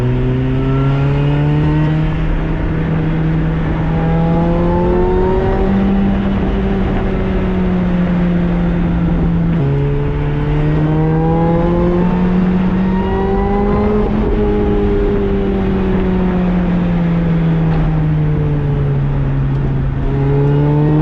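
Supercharged Lotus Exige engine revving hard, its pitch climbing and falling in repeated smooth sweeps with rev-matching blips, loud and close throughout with no talking.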